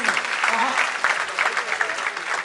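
Lively applause from an audience at a Hindi poetry recital (kavi sammelan) at IIT, brisk rhythmic clapping with individual claps poking out, and a voice heard faintly under it.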